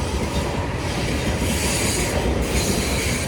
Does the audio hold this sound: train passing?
yes